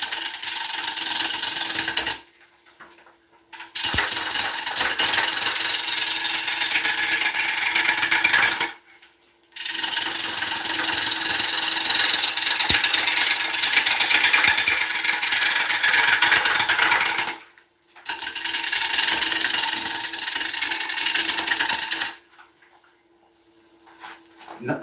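Woodturning lathe hollowing an oak bowl, a continuous loud scraping, grinding cut in long sustained passes broken by brief pauses with the lathe humming quietly.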